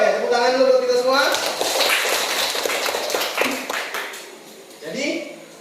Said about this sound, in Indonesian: tepuk tangan dulu buat kita semua